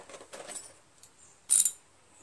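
A socket wrench ratchets a bolt loose on an MTD Yard Man 4521 single-stage snow blower: faint, scattered clicks and handling noises, then one brief, louder burst of ratcheting near the end.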